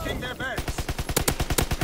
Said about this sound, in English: He hit me twice with his gun.